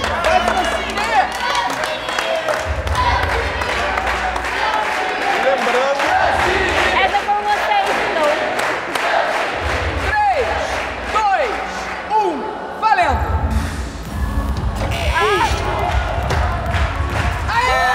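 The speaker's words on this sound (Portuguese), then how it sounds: "Ó, tem até torcida lá." A crowd cheers and shouts at a game show in the studio, a loud sustained roar with rhythmic chanting bursts and thumping, mixed with speech throughout.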